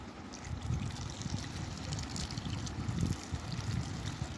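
Boiling water poured over macaroni in a baking dish for an oven pasta tagine, a steady splashing, trickling wash with low gurgling, close and continuous, with no voices.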